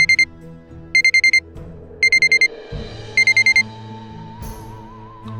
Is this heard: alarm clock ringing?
yes